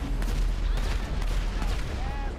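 Gunfire aimed at Trevor's house in GTA 5 comes as a dense run of booming shots and blasts, loud and continuous across the moment with heavy low rumble.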